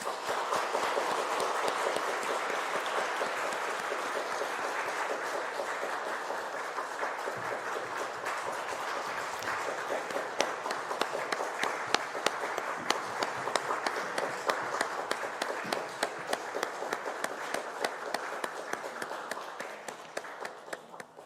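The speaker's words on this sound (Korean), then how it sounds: "마지막으로 인사하고 우리 큰 박수로" Sustained applause from a large church congregation at a dawn prayer service, a dense wash of clapping that holds steady and thins into scattered claps near the end.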